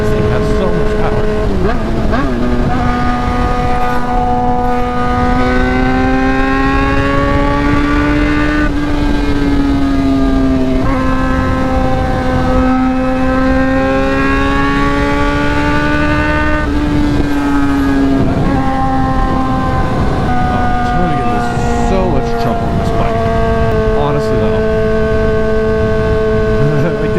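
A Honda F4i sport motorcycle engine revs hard and accelerates, a loud, continuous high-pitched whine rising and falling through the gears close by, with excited voices heard briefly.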